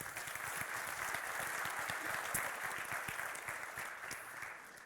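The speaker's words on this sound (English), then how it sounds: "Applause." Audience at a live-demonstration talk on advanced computer intrusion claps steadily, a moderately distant crowd of hands that holds for several seconds and then tapers slightly at the end.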